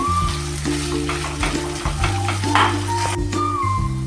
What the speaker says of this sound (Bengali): এখন দিয়ে দিচ্ছি পালং শাক এবং কড়াইশুটির পেস্টটা সমস্ত উপকরণগুলো ভালো করে ভেজে নেব একটু এবং নেড়ে নেবো